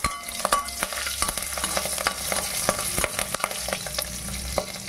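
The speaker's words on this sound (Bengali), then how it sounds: "লবঙ্গ, দারচিনি আর এলাচ নাড়াচাড়া করে দিয়ে দিচ্ছি তেজপাতা, দিচ্ছি কাঁচা লঙ্কা" Bay leaf and green chili go into hot oil with cloves, cinnamon and cardamom. A steady close sizzle runs throughout, broken by scattered sharp pops and stirring scrapes, with no speech.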